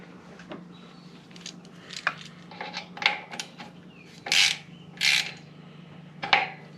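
Power steering line O-ring fitting on a Pontiac GTO being threaded in and wrenched tight, with scattered close metallic clicks, scrapes and ratcheting rasps, several short louder bursts near the end.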